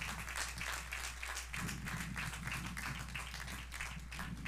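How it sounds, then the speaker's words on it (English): A graduation audience gives a round of applause for school staff, steady crowd clapping at a moderate distance over a constant low electrical hum. "So let's give them a big round of applause"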